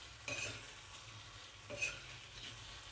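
Arbi masala is stirred in a pan, a soft steady sizzle of frying broken by two distinct spoon-scraping strokes, fairly quiet and close with no talking.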